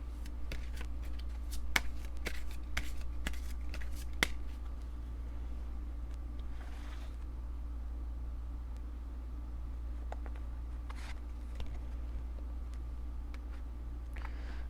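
Tarot cards are shuffled by hand in a quiet room, a run of crisp riffles and snapping flicks in the first few seconds, then sparse soft slides and taps over a low steady hum.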